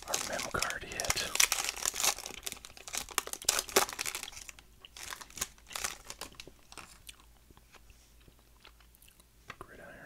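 Older football card pack being opened, plastic wrapper crinkling and tearing in close, bursty rustles that fade into quieter handling, with soft whispered talk over it.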